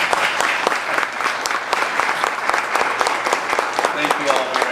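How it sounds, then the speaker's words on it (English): Audience applause at a city council candidates forum in Oxnard, a steady, dense wash of clapping throughout, close and fairly loud with no break. "I know we've got a lot of pent-up applause."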